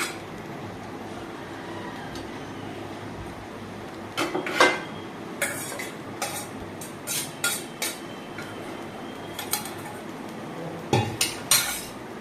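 Eggs being stirred into fried rice in a pan, with a spatula clanking and scraping against the metal in irregular bursts after a quieter stretch, close and clear with no speech.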